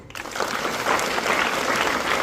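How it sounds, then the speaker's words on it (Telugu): Audience clapping at a school parent-teacher meeting, a dense, steady round of applause from a crowd throughout, close and with no talk. "Please claps."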